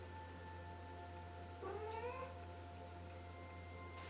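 A pet cat lets out a single drawn-out meow for attention, fairly faint, over a steady low electrical hum in a quiet room.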